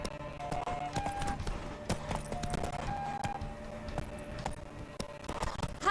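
Horse hooves clip-clopping in The Witcher 3 video game, a steady rhythmic walking gait close by, with tonal game music and ambient sounds running underneath.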